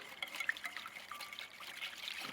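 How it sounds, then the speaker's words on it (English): Olive oil trickles in a thin stream into a bowl while garlic is whisked for a Greek sheet-pan chicken marinade, a faint, close liquid pour with soft clinks and no voices. "And then we're gonna stream in our EVOO, our olive oil."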